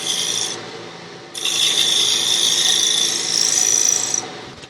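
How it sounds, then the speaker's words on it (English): A hand scraper works across the wood of a lidded box in steady raspy scraping strokes, close and fairly loud, with a brief pause before a longer continuous pass. "we'll use a scraper to clean it up a little bit"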